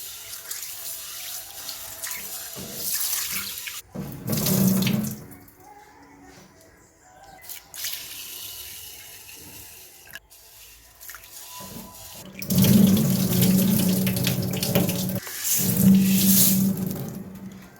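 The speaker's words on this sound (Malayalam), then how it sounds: "ഈ ചെറുപയർ നന്നായിട്ടൊന്ന് കഴുകി ഡ്രെയിൻ ചെയ്ത് എടുത്തിട്ട് വരാം." Green gram is rinsed under a running kitchen tap, with water gushing and splashing in bursts, quieter sloshing in between, and a louder stretch of flow toward the end.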